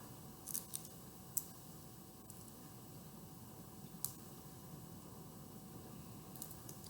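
Shell is peeled off a frozen shrimp by hand, starting at the legs underneath, giving faint, soft crackles and small snaps over a hushed, noisy background with no talking.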